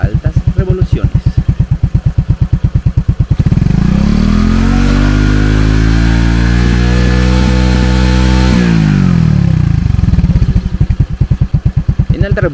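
A Honda AT110LT motorcycle engine, tested stripped down, revs up from a steady idle putter to a sustained high-RPM roar for several seconds, then drops back to idle, loud and close.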